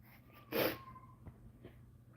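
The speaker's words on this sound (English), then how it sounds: "Sneezed." A single sharp sneeze from a man with a runny nose bursts out close and loud, followed by quiet sniffling breaths.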